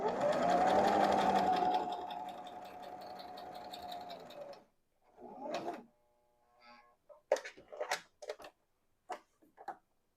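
A Brother XL-2600 sewing machine stitches at its longest stitch length, making a steady close whir for about four seconds. Soft clicks, handling taps and rustling follow, and there is no talking.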